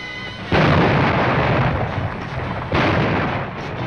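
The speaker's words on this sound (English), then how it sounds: "This radar-controlled gun is incredibly accurate." HMS Bristol's radar-controlled 4.5-inch naval gun fires twice, about two seconds apart, each a sudden heavy blast followed by a rumbling roar that fades slowly, loud and close with no voices.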